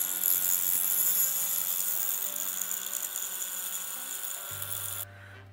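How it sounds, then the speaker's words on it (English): A power tool grinding down a jagged edge on a DIY carry belt part: a steady high-pitched buzzing whine, close and constant, that stops abruptly near the end. "So we're gonna grind that down a little bit."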